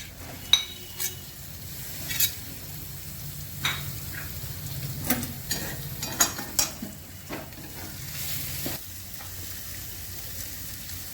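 Grated paneer fries with chopped green chillies in a pan for paneer bharta, a soft low sizzle under scattered spatula scrapes and taps against the pan, irregular and close, with no voices.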